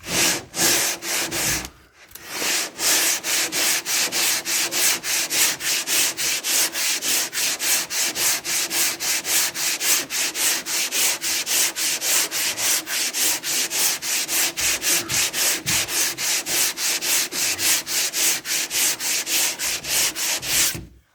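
A car panel coated with cheap body filler is hand-sanded in fast, even back-and-forth strokes, a loud rhythmic scratching that pauses briefly near the start and then runs without a break, close up.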